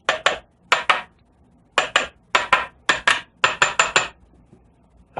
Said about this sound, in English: Invert them, and we're going to tap them.